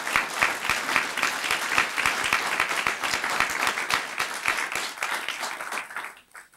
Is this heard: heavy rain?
no